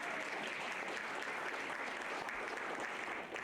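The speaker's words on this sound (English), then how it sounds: "Let's give them a round of applause." Steady applause from an audience honoring coaches at a student finals event, dense, continuous and fairly distant, filling the room without any voices standing out.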